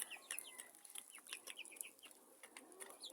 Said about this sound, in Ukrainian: Ось, мабуть, півник з курочкою.